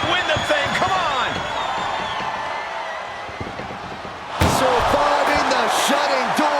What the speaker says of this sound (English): Interesting choice to close the ambulance doors.